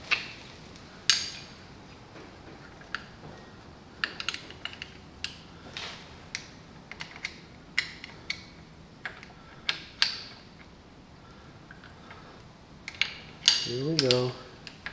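Ratchet wrench with an 11/16 socket working on a Polaris Sportsman 500 ATV, irregular clicks and metallic ticks spread across the stretch, close by, ending in a brief rattling burst.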